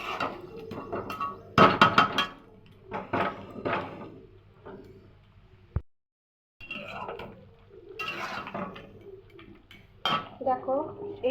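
A metal spatula clatters and scrapes against a cooking pan as ground cumin is stirred in, giving irregular close knocks and rattles with a brief silent gap midway.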